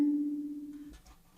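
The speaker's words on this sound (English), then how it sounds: "I sampled one note from the Kalimba, and it sounds like this." One sampled kalimba note, a single short plucked tone with a bright attack that rings steadily for under a second and then cuts off, leaving faint low noise, heard alone and quietly.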